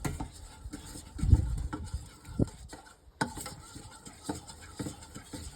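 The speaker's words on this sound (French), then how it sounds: "je vais prendre une cuillère et puis je vais mélanger tout simplement" Spoon stirring a dry corn and hemp seed boilie mix in a bowl, with irregular scraping and gritty rustling strokes and occasional louder knocks against the bowl, close and without talk.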